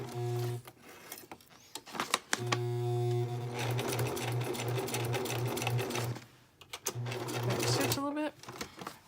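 A sewing machine stitches the edges of junk journal paper pages, running in steady whirring bursts with short pauses between, close and loud, with a voice talking in between the runs.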